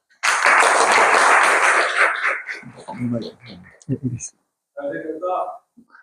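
An audience at a church seminar gives a short burst of applause as a pastor comes up to speak; the clapping fades after about two seconds, followed by shuffling, a throat clearing and the start of speech.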